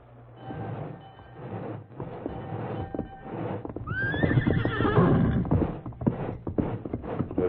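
A horse named Silver whinnies loudly in a radio drama, a rising neigh standing out over the rumble and clatter of a nearby train, with hoofbeats and rail noise continuing throughout.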